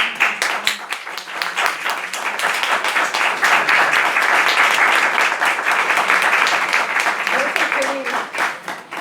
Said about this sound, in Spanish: Primero, un aplauso enorme.